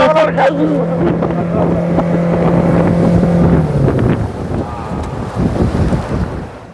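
A speedboat ride on the water at Veli Tourist Village in Thiruvananthapuram, with a loud, steady engine drone and rushing wind buffeting the microphone that eases off near the end as the boat slows.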